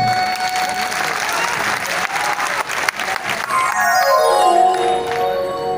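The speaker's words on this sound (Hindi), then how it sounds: "एहि के लेल एक बार जोरदार थपड़ी" Loud, sustained round of applause from the audience at the Mithila Vibhuti honour ceremony, dense clapping throughout, with a musical tone sweeping in toward the end and faint voices mixed in.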